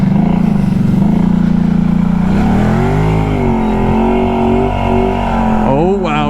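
A four-wheeler ATV in 4-wheel drive revs hard and close, its engine note steady at first, then rising and wavering through several throttle surges as it bogs in deep ground; a voice can be heard under it.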